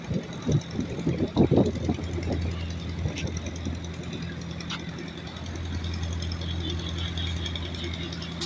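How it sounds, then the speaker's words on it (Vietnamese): A sand-carrying barge on a river chugs along with a low, steady engine drone and some rattling, moderately distant, with a few louder knocks early on and no clear speech. "Và đây là có một chiếc xà lan chở cát nữa nè"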